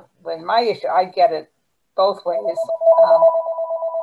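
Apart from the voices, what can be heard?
telephone ringing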